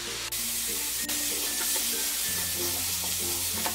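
Tinned fish seasoned with pepper and salt stirred in a frying pan, giving a steady loud sizzle throughout with a few scraping strokes of the utensil and no talk.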